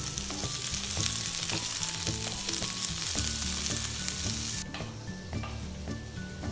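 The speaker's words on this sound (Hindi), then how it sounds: "अब इसे मैं फ्राई करूंगा 4 से 5 मिनट के लिए। मैं इसे मिड फ्लेम पे फ्राई करेंगे।" Mixed vegetables fry over a medium flame in a pan, with a loud continuous sizzle and crackle and steady stirring scrapes, no voices.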